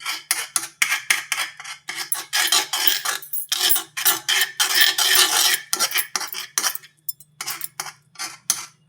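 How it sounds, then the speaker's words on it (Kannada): A spoon stirs gram flour batter in a bowl to break up lumps, making brisk, rhythmic scraping and clinking strokes, loud and close with short pauses. "ಆ ಗಂಟನ್ನ ಸ್ಪೂನ್ ಸಹಾಯದಿಂದ ಚೆನ್ನಾಗಿ ಹೊಡ್ಕೊಳ್ಳಿ."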